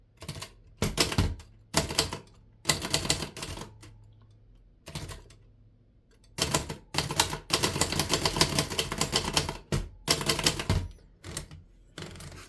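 Keys clack on a 1937 Remington Noiseless Model 1 typewriter in quick, uneven bursts of strikes separated by short pauses, close and fairly soft, with no talking.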